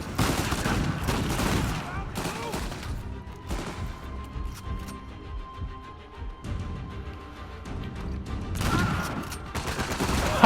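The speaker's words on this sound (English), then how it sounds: "I love the shotgun because I can use their own weapon against them" Loud shotgun blasts in the video game Uncharted 4, heavy booming shots at the start and again near the end amid gameplay noise and music, with a person talking in between.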